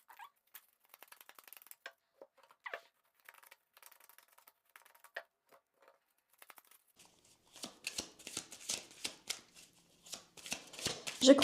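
Tarot cards are shuffled in crisp, riffling bursts, quiet and sporadic at first, then denser and louder toward the end, with no one talking over the shuffling.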